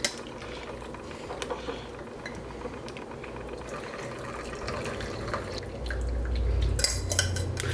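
Octopus braising liquid bubbling in a pot on the stove: a steady close-up simmer of small pops and drips, growing fuller and louder toward the end, with faint clinks of cookware.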